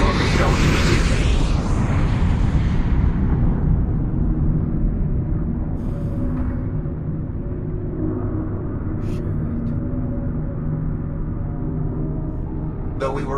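A torpedo launch in the VR game Lone Echo 2, heard as a loud broadband roaring rumble that rises at once, then slowly fades to a sustained low drone with faint scattered clicks.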